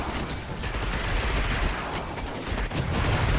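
Dense, continuous video-game gunfire in Destiny, loud rapid bursts blending into an unbroken rattle with no pauses and no voices.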